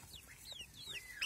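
Chickens clucking softly and chirping as they are shut into a small coop for the evening, short quiet calls from several birds close by.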